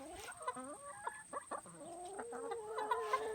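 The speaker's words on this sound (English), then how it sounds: "16 laying hens" Laying hens cluck and murmur close by in a farmyard, a steady run of short, fairly quiet calls with no talking.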